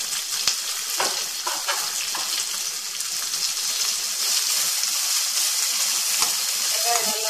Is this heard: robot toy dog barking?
no